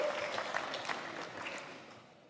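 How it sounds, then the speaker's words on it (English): Brief applause from the audience at an Avalanche Summit 2022 keynote, a moderate wash of clapping that fades away toward the end. "I want to give a round of applause to you guys."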